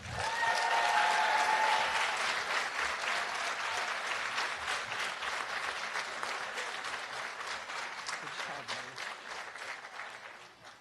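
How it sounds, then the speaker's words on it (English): An audience at a fourth grade promotion ceremony at Robb Elementary gives a long round of applause, dense clapping that starts strong and gradually thins and fades toward the end. "Can we have one more round of applause for these outstanding students?"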